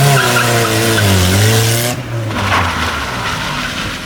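A Mazda Miata with its handbrake adjusted to lock both rear tires skids loudly for about two seconds, engine droning under a steady squeal, then the noise drops to a rougher tire rumble and engine roar.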